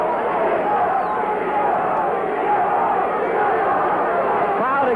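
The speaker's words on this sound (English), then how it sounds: "Crowd exhorting Nino" Dense, loud boxing crowd roaring and cheering continuously at a professional middleweight bout after a knockdown, a steady wall of voices with shouts rising through it and a commentator talking over the din.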